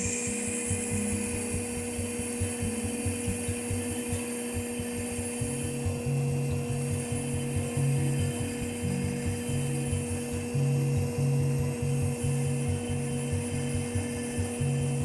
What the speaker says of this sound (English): I'm starting to cut the facets.